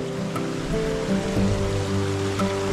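Water flows steadily from a spring source that feeds village drinking taps in Mathichaur, a continuous gurgling rush close by with a few faint clicks over it.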